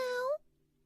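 A single cat meow, bright and rising, lasting about a third of a second before cutting off into near silence.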